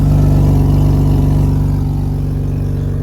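Acura TL with a 3.7-litre engine swap, six-speed, J-pipe and Comptech exhaust idling loud and rumbly right after a cold start, a steady deep pulsing drone close by with no talking.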